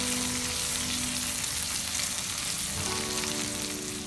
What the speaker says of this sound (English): It is 2 minutes that the fish is frying from the other side